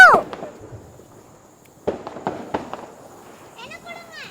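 Diwali firecrackers popping outdoors, a few sharp cracks near the start and a cluster of loud bangs in the middle, with children's and adults' voices talking and calling out between them.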